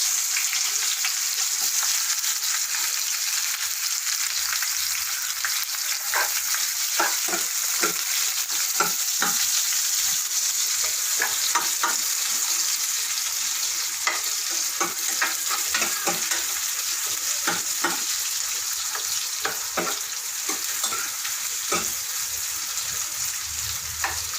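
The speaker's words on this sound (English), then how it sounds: "Let's fry the onions." Onions fry in hot oil in a pan, giving a steady, even sizzle that runs throughout, broken by faint crackles and light stirring scrapes, with no talking.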